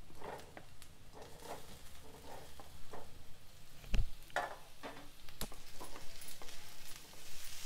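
Paneer frying with crushed garlic and curry leaves gives a close, steady sizzle broken by spatula scrapes and a sharp knock near the middle, with no talking.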